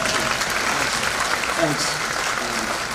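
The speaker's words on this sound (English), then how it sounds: "I understand the applause" A crowd at a House GOP announcement event bursts into steady applause, broad and continuous, with someone speaking briefly over it.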